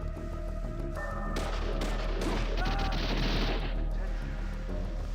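Gunfire in a 3DO light gun shooter video game, with bursts of rapid shots and booming impacts piling up over steady game music and sound effects.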